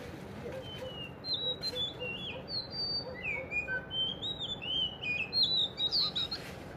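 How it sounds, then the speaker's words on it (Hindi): Asian koel calling outdoors, a series of bright whistled notes repeated irregularly over about six seconds, fairly near and clear above a steady low background hum. "अब ये फिर दोबारा बोलेगी। ज़रा समझने की कोशिश करना कि ये क्या कहती"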